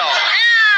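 A single animated cartoon cat lets out one bright, sustained meow, loud and close with no other sounds.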